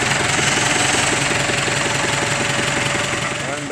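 A steady, loud tractor engine rumbles with a rapid rhythmic knocking throughout, running close by while acting as a brake for an old REO ramp truck being moved downhill.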